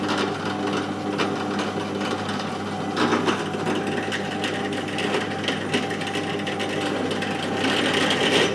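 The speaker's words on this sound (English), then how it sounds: "And some drilling." A drill runs continuously, boring holes for steering parts on a Super 7 Locost kit car build, a steady whirring grind that carries on for several seconds with small shifts in load.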